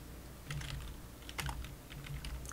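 A command being typed on a computer keyboard during a CSF firewall install on a Linux server, with quick, close, irregular key clicks in short bursts.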